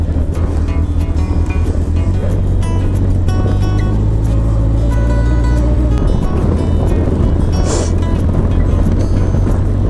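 A Honda CB1000SF motorcycle cruises along Route 441 in Japan in strong wind, with a steady low engine drone under constant loud wind rush across the whole stretch.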